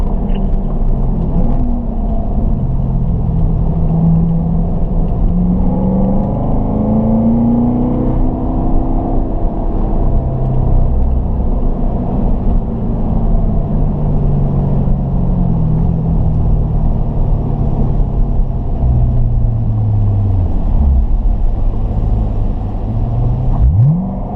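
Car engine lapping a race track in Nevada during a Ron Fellows driving school session, slowing and easing off, a steady close rumble with gradual pitch sweeps as revs fall and rise, no talk.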